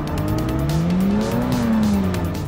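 Damaged race car in Forza Motorsport 6 struggling under full throttle in a city race, engine drone rising and falling in pitch with a whining, strained tone, loud and continuous.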